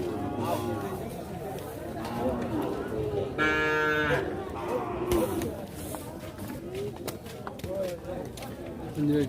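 At a crowded cattle market in Sylhet, a single loud moo rises above steady chatter from buyers and sellers, with people talking throughout.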